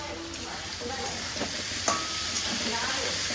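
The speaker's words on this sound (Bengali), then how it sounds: "টমেটো, রসুন, লঙ্কা এগুলো দিয়ে মশলাটাকে ভালো করে ভাজবো।" A spice masala of tomato, garlic and green chili sizzles in hot oil in a pan, a dense, even frying hiss with occasional stirring knocks, close and steady.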